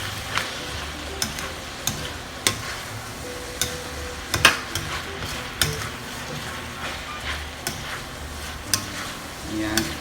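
Mushrooms and hotdog being stirred while frying in a pan, sharp regular utensil taps and scrapes against the pan over a low background sizzle.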